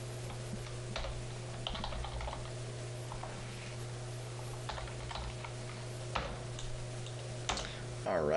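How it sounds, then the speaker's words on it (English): Someone types on a computer keyboard, a quiet, irregular patter of key clicks with occasional sharper taps over a steady electrical hum. "all I'm doing is just typing them in again and just reversing the numbers"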